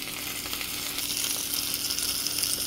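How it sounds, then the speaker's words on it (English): Steady crackling sizzle of chicken frying without oil in a churro maker, a bright hissing texture with small pops, continuous and close. "But I like to hear it sizzle, so I know it's cooking."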